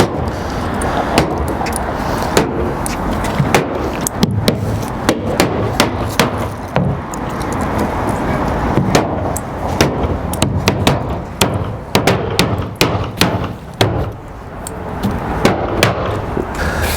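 Nails being driven through roofing underlayment into a shingle roof, a rapid irregular series of sharp impacts, some single and some in quick pairs, loud and close over steady outdoor background noise, with no talking.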